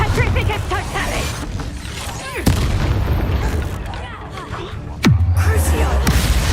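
Confringo blast spells exploding in the video game Hogwarts Legacy: two loud booming blasts with sharp sweeping whooshes, set against dense continuous game combat noise and music.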